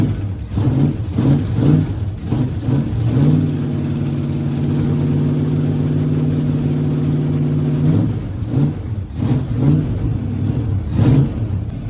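Old 305 V8 street stock engine running cold with the choke wide open, loping through a fast rumbling idle with repeated throttle blips and a thin high whine or squeal over it, close by.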